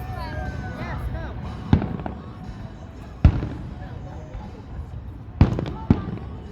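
Fireworks go off in a few sharp, separated bangs over a steady background din, with people talking throughout.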